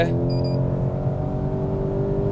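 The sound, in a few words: Škoda car engine running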